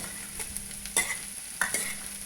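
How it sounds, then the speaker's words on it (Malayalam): Chopped ginger, green chilli and curry leaves fry in coconut oil over a low flame, a soft sizzle broken by a few quick spoon scrapes as they are stirred, with no voices. "അത് ചൂടാകുമ്പോൾ അരിഞ്ഞു വച്ചിരിക്കുന്ന ഇഞ്ചി, പച്ചമുളക്, കുറച്ച് കറിവേപ്പില എല്ലാം കൂടെ എടുത്ത് ചെറുതീയിൽ മൂപ്പിച്ചെടുക്കുക."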